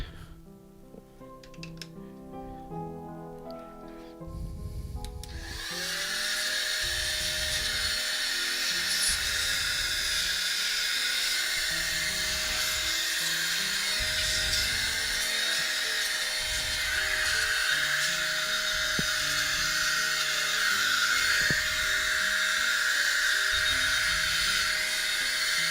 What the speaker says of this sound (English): Really handy little vacuum this.